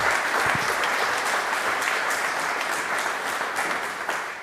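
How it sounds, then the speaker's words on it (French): An audience at a conference applauds a panel of three, steady dense clapping that holds evenly for several seconds and fades slightly at the end, with no talking over it. "Puis-je demander, mesdames et messieurs, de bien vouloir les applaudir"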